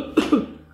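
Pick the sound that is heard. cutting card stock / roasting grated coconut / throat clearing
throat clearing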